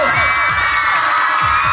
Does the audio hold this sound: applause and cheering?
yes